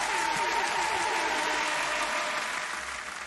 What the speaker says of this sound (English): Give him the clap.